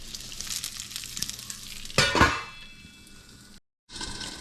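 Cherry tomatoes fry in a covered pan with a steady hiss, a louder crackling burst midway and faint clinks, then a brief silence before the sizzling resumes.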